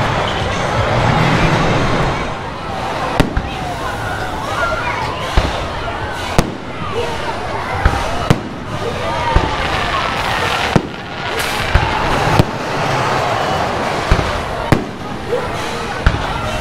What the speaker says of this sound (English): Highlights of the fireworks coming up.